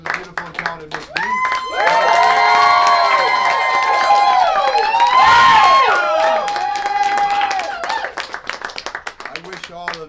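An audience at a Hollywood magic show breaks into loud sustained applause and cheering for the magician's assistant, swelling for several seconds and then thinning to scattered claps, with shouts and voices throughout.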